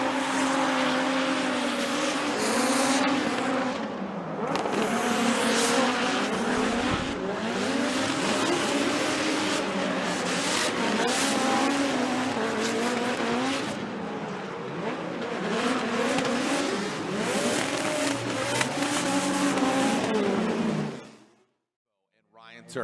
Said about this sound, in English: listen to this four-cylinder turbocharged nitrous gum out